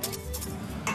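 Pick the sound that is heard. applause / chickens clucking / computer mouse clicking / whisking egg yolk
whisking egg yolk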